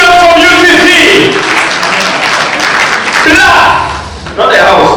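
Audience applause at the Northern Uganda Film Awards 2025 ceremony: a loud, sustained wash of clapping runs under a presenter's shouting voice, dipping briefly near the end before surging again.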